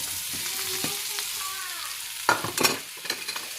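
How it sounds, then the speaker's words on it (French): Apple slices fry in butter in a pan, a steady soft sizzle running throughout, with a few sharper scrapes and clinks of stirring near the end. "il faut que je mette un petit peu de beurre, que je mette mes tranches de pommes"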